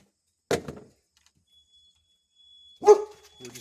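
Dogs inside a house let out two separate barks, a short sharp one followed by a louder, fuller bark a couple of seconds later, with quiet gaps around them.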